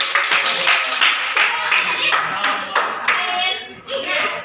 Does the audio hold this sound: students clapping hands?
yes